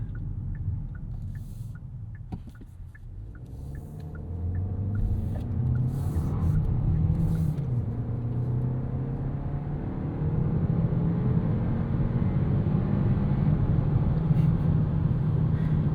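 A 2026 Kia K4 hatchback's turbo engine in sport mode, a low, subdued hum that builds and shifts through unhurried gear changes from inside the cabin, with road rumble and faint ticking underneath.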